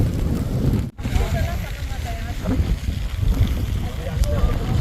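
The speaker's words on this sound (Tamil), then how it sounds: "நல்லா மழை பெய்யுது இப்போ" Wind roars steadily on a misty mountain trek at Meesapulimala, buffeting the microphone with a rough, close rumble. The heavy rain itself cannot be picked out, and a voice talks faintly underneath.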